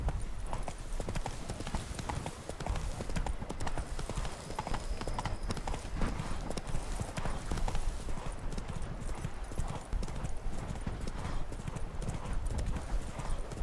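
Roach the horse trots in The Witcher 3: Blood and Wine, with a quick, steady clip-clop of hooves that carries on throughout, close and clear against faint background game sound.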